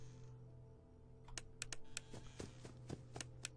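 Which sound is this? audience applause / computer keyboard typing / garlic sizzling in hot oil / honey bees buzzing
computer keyboard typing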